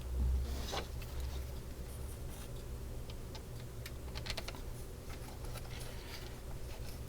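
Small 2.3 by 6 millimeter screws are tightened into the dome fittings of a 1:2 scale R2-D2 model. Quiet close ticks and light scraping clicks come in irregular bursts, with no talking.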